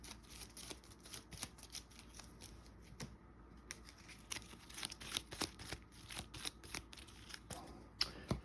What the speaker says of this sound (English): Each player shuffles 1 Cobra Trooper into their deck.